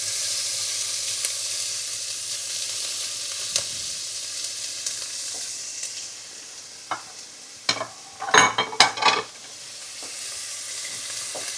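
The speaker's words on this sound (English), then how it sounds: "Once this onion starts to make a noise, I'll know it's ready." Onions sizzle steadily in a hot pan, a constant crackling hiss with a few sharper pops and clatters from stirring near the end.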